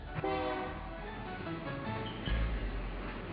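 A train passes close to a caboose bed and breakfast beside the tracks, its horn sounding a sustained, tonal blast over the rolling rumble of the cars.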